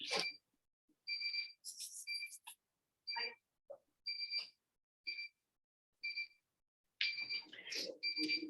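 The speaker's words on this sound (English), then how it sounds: "give me 1 second to turn off the timer" A timer alarm rings in repeated short, shrill electronic beep bursts at a steady pace, fairly quiet, with a denser cluster of beeps at the end.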